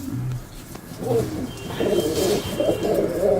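Pigeons coo in soft, repeated, low rounded calls at a pigeon-keeping loft, continuing steadily over a constant outdoor background hum.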